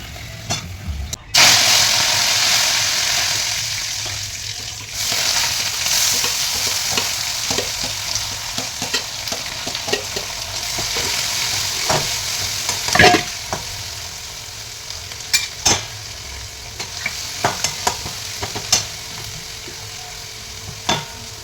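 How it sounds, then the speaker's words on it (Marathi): Papad and other snacks fry in hot oil with a steady, close sizzle and bubbling, broken by brief clatters of a utensil stirring, with only faint voices. "चला हे तळणीचं पदार्थ तळून घेऊया"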